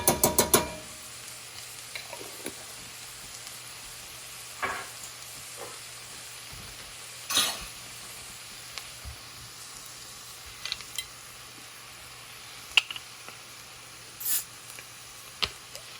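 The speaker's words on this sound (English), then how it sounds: "Give it a little stir." Taco meat seasoned with Penzeys taco seasoning sizzles steadily in a pan, with a constant frying hiss broken by scattered scrapes and clacks of stirring, close and loud with no talking.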